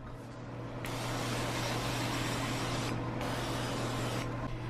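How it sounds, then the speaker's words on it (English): Nonstick cooking spray hisses steadily from a can onto a 6x9 baking dish, a close continuous spray with brief dips and pauses in the flow. "we're going to spray a 6x9 baking dish with some nonstick cooking spray"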